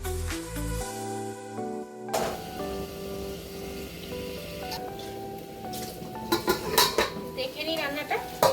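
Fish curry being stirred and fried in oil in a pan, with a spatula clinking and scraping against the metal, soft sizzling underneath and a quiet stretch before busier scraping near the end.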